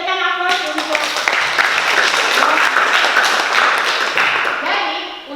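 A classroom audience of students at a school gives a round of applause, dense clapping that builds quickly, holds steady for several seconds and then tapers off, with some voices mixed in.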